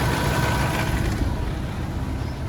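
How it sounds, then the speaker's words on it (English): A 2015 Kenworth T660 diesel truck with a Cummins MX 485 engine idles steadily with a low, even rumble and faint rattle, nearby and continuous. "the engine is amazingly quiet. Have a listen."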